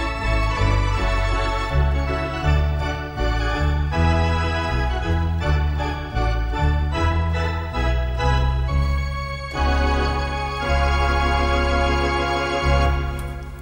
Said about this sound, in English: Or the really full theatre sound.